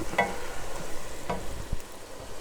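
Ground meat for Bolognese cooking down in a pan as its released liquid simmers off, giving a steady low sizzle with occasional soft stirring scrapes, close and even throughout, with no voices.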